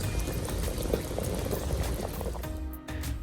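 Chinese fish head soup simmers in a pot, a close, continuous bubbling and gurgling of liquid that briefly changes tone near the end.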